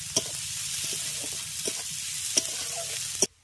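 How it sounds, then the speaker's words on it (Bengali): Chopped onions fry in a pan with a steady, close sizzle, broken by a few sharp stirring clicks and scrapes before the sound cuts off abruptly. "পেঁয়াজটাকে প্রথমে একটু লাল করে ভেজে নেব।"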